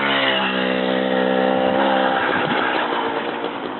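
A Minsk moped engine runs steadily close by, its buzzing drone holding a stable pitch before turning rougher and more uneven toward the end, with no talk.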